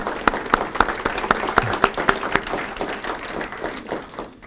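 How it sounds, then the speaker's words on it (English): Applause from an audience at a speaker series event, with distinct sharp claps standing out over a softer wash of clapping that thins and fades toward the end. "Let's give them a round of applause."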